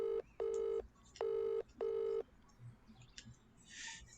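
A phone call tone sounds as a series of four loud, steady electronic beeps in even bursts, followed by quieter scattered clicks and faint rustling noise.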